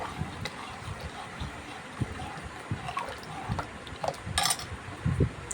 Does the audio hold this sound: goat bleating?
no